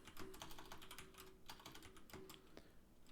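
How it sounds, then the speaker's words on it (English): Rapid keystrokes on a computer keyboard while entering a keyword into a Botpress chatbot form, a steady run of light clicks with a few brief pauses, fairly close and quiet, no voices. "now we will type in the keyword"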